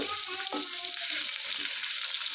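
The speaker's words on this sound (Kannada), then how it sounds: "ಈರುಳ್ಳಿ ಸ್ವಲ್ಪ ಕಲರ್ ಚೇಂಜ್ ಆಗಬೇಕು ಅಲ್ಲಿವರೆಗೂ ಚೆನ್ನಾಗಿ ಫ್ರೈ ಮಾಡ್ಕೋಬೇಕು ಈರುಳ್ಳಿನ" Sliced onions frying for fenugreek pulao make a steady, close hiss of oil sizzle with a few faint stirring scrapes, no talking.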